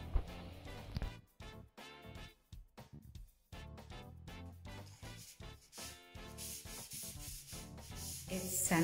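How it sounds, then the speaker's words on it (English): Rough, scratchy sanding strokes rasp against a painted interior wall in an irregular rhythm, close and moderately loud, with brief pauses between bursts. "It's sanding time."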